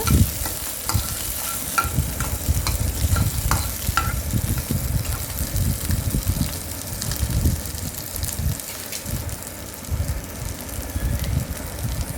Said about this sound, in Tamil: பச்சை வாசம் போகிற அளவுக்கு நல்லா வதக்கிக்கோங்க.